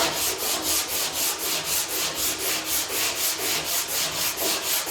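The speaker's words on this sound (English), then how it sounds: "I'll keep sanding right there." Rhythmic back-and-forth strokes sanding body filler, about two per second, rasping steadily and close with no voices.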